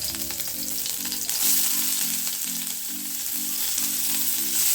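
Chillies frying in about a tablespoon of hot oil before onion and curry leaves go in for a veggie Maggi noodle dish, a steady crackling sizzle close by, with a regular low pulsing hum underneath.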